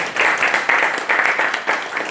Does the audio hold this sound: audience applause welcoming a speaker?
yes